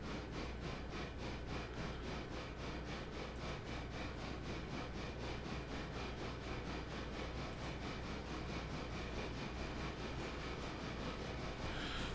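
Passenger train in the railroad simulation game Railroader running steadily at speed, a continuous rumbling roll with faint rhythmic rail clatter, sustained and even throughout with no talking.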